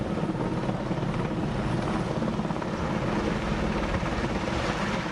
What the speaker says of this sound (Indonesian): Salah satunya menggunakan helikopter waterbombing.